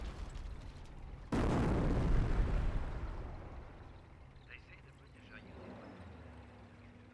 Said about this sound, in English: Mortar half track advances way forward. Eyeing for a barrage.